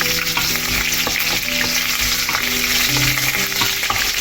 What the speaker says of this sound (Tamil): இது சின்ன வெங்காயம் நல்லா வதங்கட்டும்